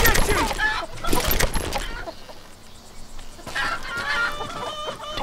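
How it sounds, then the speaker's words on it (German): Chickens cluck in rapid, busy bursts in the Call of Juarez Gunslinger video game, loud and close, then fall away briefly before clucking resumes, with a voice talking over part of it. "Die Hühner werden mich verraten."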